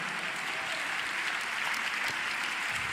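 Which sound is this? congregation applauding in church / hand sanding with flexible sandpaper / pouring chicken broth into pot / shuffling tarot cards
congregation applauding in church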